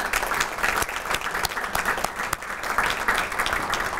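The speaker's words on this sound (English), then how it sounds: "Can we give our sponsors a round of applause, please?" A seated audience at a business talk on digital transformation gives sponsors a steady round of applause, dense continuous clapping at moderate level lasting several seconds without speech over it.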